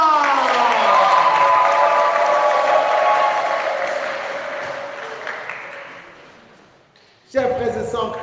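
A church congregation at an Easter Vigil Mass erupts in loud acclamation, shouting and cheering with some clapping. The noise fades gradually over several seconds before a single voice starts speaking near the end.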